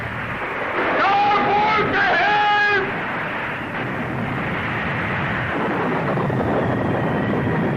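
A roaring storm at sea in a 1935 film trailer, heard as a dense, steady wash of wind and crashing water, with a brief tonal swell near the start, continuing unbroken.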